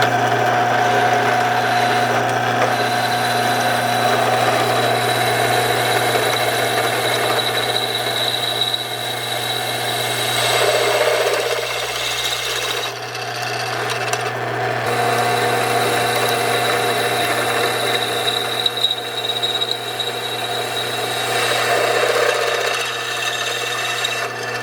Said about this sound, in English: drill the hole on the timing cover